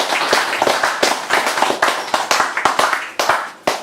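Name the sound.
audience applause after poetry reading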